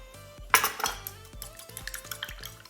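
Four eggs whisked briskly in a bowl with a fork for an omelette, producing rapid metallic clinks and scraping against the bowl's sides in a steady, close rhythm.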